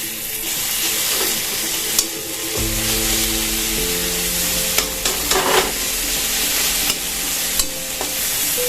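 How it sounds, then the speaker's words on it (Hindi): Ginger garlic paste sizzling in hot oil beside browned onions while being stirred, a steady close frying hiss broken by occasional scraping stirs. "अब हम थोड़ा लहसुन का पेस्ट डालेंगे, अदरक लहसुन का पेस्ट"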